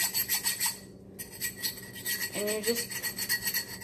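Foam sandpaper block sanding the cut edge of a glass bottle, a loud rhythmic scraping rasp in quick strokes with a brief pause and a light glassy ring, close up, with a short spoken phrase over it.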